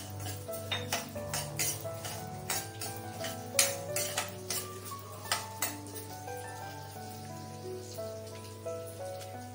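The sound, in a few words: dry roasting fenugreek and rice in a pan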